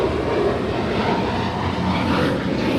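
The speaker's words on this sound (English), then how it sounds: "Flight 8015 coming in from Seoul, just touching down and 25 left" A heavy airliner arriving from Seoul touches down on runway 25 left at LAX, a loud, steady broadband engine and wheel roar that stays constant throughout, with no talk.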